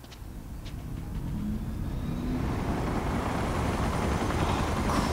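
Two helicopters fly in the action game Uncharted 3, a rough, broad rotor and engine roar that grows steadily louder as they close in, with no talking.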